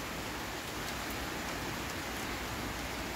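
Steady morning rain falling outdoors, a dense continuous hiss of drops on surfaces, fairly loud and close and unbroken throughout, with no talking.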